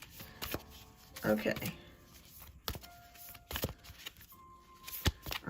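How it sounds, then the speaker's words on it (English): Tarot cards being shuffled by hand during a live reading, with bursts of riffling and soft card slaps in an irregular rhythm, close and moderately loud, with a voice speaking briefly between the shuffles. "These things are hard to shuffle"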